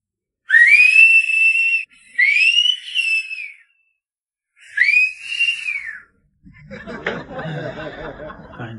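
A man gives three loud, close whistled notes, each sliding up then down with short gaps between them, followed by muffled chuckling and laughter.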